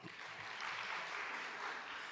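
Steady applause fills a Bible school gathering, a crowd clapping continuously and evenly at moderate distance for a couple of seconds with no voices over it.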